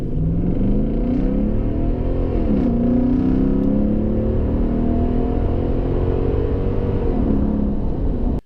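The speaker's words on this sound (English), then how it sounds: "we are now going to go into the exhaust system on how it sounds from inside the cockpit" A Toyota Tundra pickup truck accelerates from a standstill, its deep exhaust rumble heard from inside the cab, with rising and falling pitch as gears shift.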